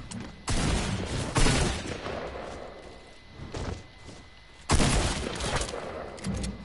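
Shotgun and pistol fire in a first-person shooter game, loud bursts of shots in two clusters with quieter rumbling between them, with no talking over it.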